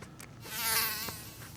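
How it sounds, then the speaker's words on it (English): Insects buzz outdoors while fishing, one passing close in a rising and fading whine, heard alone over soft background noise. "It's that time of the year. The bugs are back."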